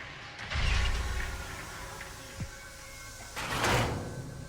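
A sliding door in the Texas Chainsaw Massacre video game rumbles open twice, each a short scraping whoosh, with a faint click between them and no talking over it.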